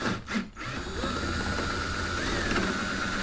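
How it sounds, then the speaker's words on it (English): A power drill whines steadily at close range, boring into a kayak hull, its pitch rising slightly as the bit works through the plastic, with a short stutter at the start. "now I have their drill bit in my drill. We're going to just start this"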